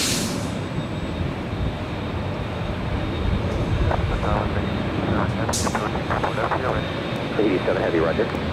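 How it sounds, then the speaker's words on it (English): An Air Tahiti Nui Boeing 787-9 Dreamliner departs runway 24 left at LAX, its engines a continuous loud rumble under a voice talking, with brief higher hisses breaking through. "making our way down for a departure on 24 left is the Air Tahiti Nui, flight 7, heading back to Papeete to 787-9 Dreamliner"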